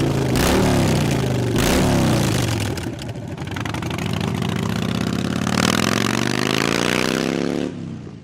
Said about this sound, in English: Listen to the Dyna behind me with a set of big radius 2 and 2 pipes on it.